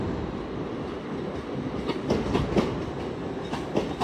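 A nine-car IET passenger train rolls into York station on the East Coast Main Line, a steady loud rumble of wheels on rail with rhythmic clicks from passing carriages.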